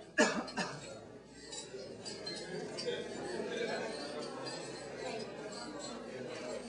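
Glasses clink during a wedding toast to the newlyweds, a sharp clink at the start followed by faint scattered chinks under a low murmur of guests chatting in the room.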